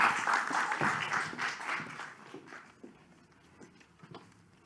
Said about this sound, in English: So please give a big applause for Oane.